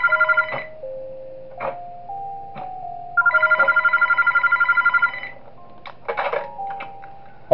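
In-game phone in Those Nights at Wario's 3 ringing in bright electronic bursts, two long trilling rings separated by short tones and clicks, loud and alone.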